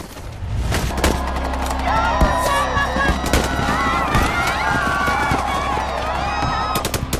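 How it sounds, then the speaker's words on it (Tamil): Gunfire rings out as a police station officer shoots at protesters, with repeated sharp cracks and bursts over a dense, loud crowd din and shouting voices throughout. "அந்த ஸ்டேஷனோட இன்சார்ஜ் அவங்களை கலைக்கிறதுக்காக துப்பாக்கி சூடு நடத்துறாரு"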